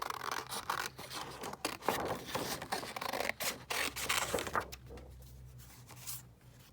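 Scissors snip out paper pieces for a junk journal, giving close, repeated crisp cuts and rustling in an irregular rhythm, with no voices.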